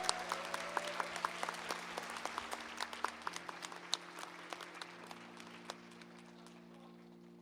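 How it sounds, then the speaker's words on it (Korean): Church congregation applauding during a Sunday worship service, scattered claps fading out over several seconds with a sustained organ or keyboard chord beneath. "다 같이 격려와 응원하는 마음으로 크게 박수해 주시기 바랍니다"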